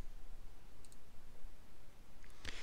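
Computer mouse clicks while working in LibreOffice Basic macro editing, a faint pair of quick ticks early on and a sharper single click near the end over a low steady background hiss.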